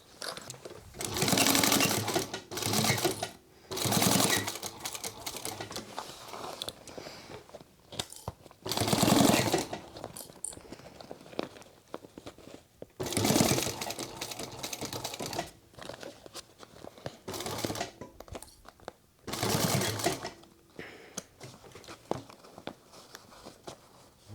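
Sewing machine running a 1/8 inch seam around the whole perimeter of a sling crossbody bag, in repeated close bursts of fast stitching with short pauses between runs.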